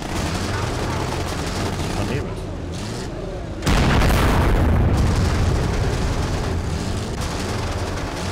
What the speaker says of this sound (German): Was gibt's denn Schöneres als so eine schöne Explosion